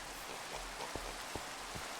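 Steady rain falling in a video game, a continuous soft hiss with a few brief drip-like taps scattered through it, fairly quiet and with no voices.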